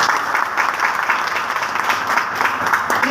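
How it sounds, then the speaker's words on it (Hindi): Loud, sustained applause from an audience at a business seminar, a dense wash of clapping holding steady for the whole stretch with no talk over it. "एक बार जबरदस्त ताली होनी चाहिए"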